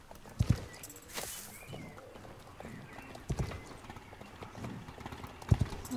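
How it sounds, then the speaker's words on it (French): A horse in the video game Star Stable Online gallops with quick, regular hoofbeats. The hooves strike in paired bursts over a soft game ambience, and a brief neigh sounds among them. "Il file, hein, le cheval"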